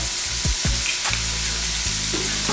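Baby octopus sizzles in hot oil in a sauté pan, a steady loud crackling hiss with a few low clunks of the pan or utensil, close up and with no voices.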